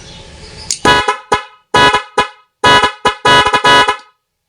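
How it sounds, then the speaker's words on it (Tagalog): A stock vehicle horn on a motorcycle or car blares in a series of about nine loud, close honks of varying length, some short toots and some held blasts, with brief gaps between them and no talking. "so goods naman yung ating stock horn"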